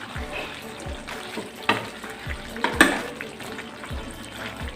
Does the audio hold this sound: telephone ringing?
no